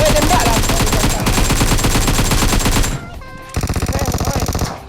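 Rapid automatic gunfire from PUBG Mobile, loud and close, with sustained bursts that pause briefly and then resume in a fast, even rhythm.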